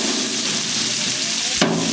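Onions fry in hot oil for a climbing perch fish curry in a village kitchen, making a loud steady sizzle followed by a sharp clank near the end.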